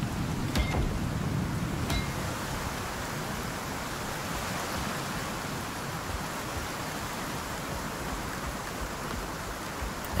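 Heavy rain in the survival game Icarus, a dense, even hiss of downpour that holds steady throughout, with a couple of faint brief clicks early on.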